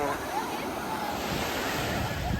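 Ocean surf washes continuously at close range on the beach at Enoshima, Japan, a broad roaring hiss with wind buffeting the microphone.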